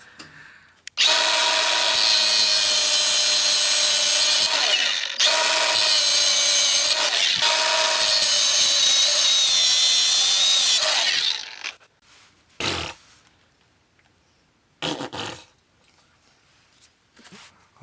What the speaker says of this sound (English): I didn't want to use the cutoff wheel here, but seems like we have no choice.